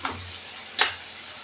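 Chopped bell pepper cooks in a pan of tomato masala for egg bhurji. A spoon gives two quick stirring scrapes over a faint, low sizzle.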